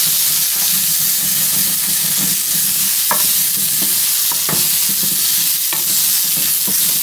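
Food sizzles loudly and continuously in a pan while a utensil scrapes and stirs at irregular intervals, as ingredients for an Indian jujube chutney fry until glazed.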